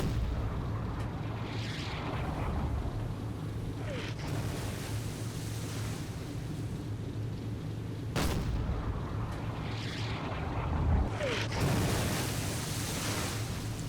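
Enemy ship deck-gun fire in Silent Hunter 4, aimed at the WWII submarine USS Salmon in the Pacific: heavy booms land at spaced intervals over a constant wash of ocean and engine rumble.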